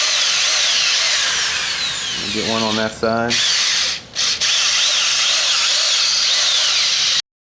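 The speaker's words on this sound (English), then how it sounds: "we'll try to drill some holes through there" A power drill bores drainage holes through a wooden log planter, loud and steady with the motor whine rising and cutting off briefly, while a person speaks a few words over it.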